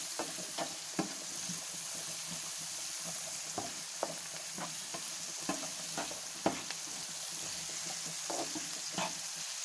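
Fried chicken ingredients are stirred in a pan over a continuous sizzle, with sharp clicks and scrapes of the utensil scattered irregularly throughout, close up.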